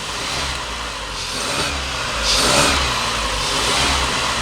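A car engine with a throttle position sensor fault is revved during a repair test, a steady mid-pitched drone that swells and fades a few times, close and with no talk.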